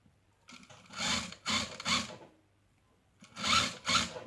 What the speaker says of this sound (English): I'm sewing from this notch down